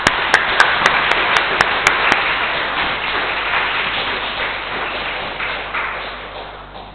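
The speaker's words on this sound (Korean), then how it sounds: "그래서 우리 부회장님 용기 내서 당신 신앙 나눌 수 있도록 큰 박수로 환영해 주십시오." A church congregation at a Korean Catholic Sunday Mass bursts into sustained, loud applause that fills the hall, with a few sharp ringing taps at the start, then fades over several seconds.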